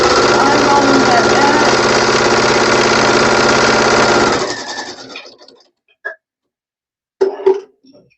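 A sewing machine stitching fabric for a quilting project, a loud steady mechanical whirring run that stops abruptly, followed by a few brief clicks and handling noises.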